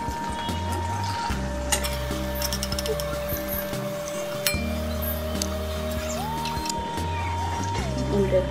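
Semolina batter poured over an egg filling sizzles steadily in a hot pan, with a constant soft frying hiss, occasional utensil clinks and background hums, and no voices.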